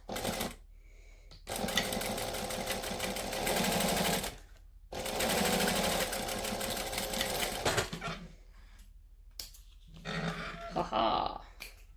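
A sewing machine stitches fabric along a curved pattern line in loud whirring runs of a couple of seconds each, separated by short silent pauses, with a final stuttering burst.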